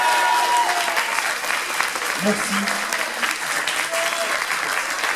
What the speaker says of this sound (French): On peut applaudir l'ingé son